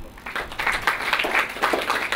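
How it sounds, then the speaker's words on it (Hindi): An audience at a motivational talk claps together in a steady, dense burst of applause that holds for a couple of seconds, fairly close and full. "अपने लकी होने के लिए एक दफा ताली बजाते हैं"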